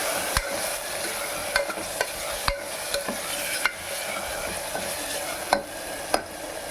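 Food sautés in a pan with turmeric powder and rock salt, a soft continuous sizzle broken by regular clicks and scrapes of a spoon stirring against the pan.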